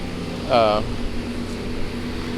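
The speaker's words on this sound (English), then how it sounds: "Trying to stay away from this area over here because we got our generator running" A generator runs after a Category 4 hurricane, a steady low mechanical hum beneath a brief tonal whine. A voice speaks over it.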